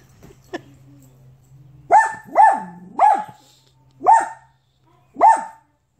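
A Blue Bay Shepherd dog barks at a cat indoors at home, five loud, close barks in an uneven rhythm following a couple of faint sounds, with a low steady hum underneath.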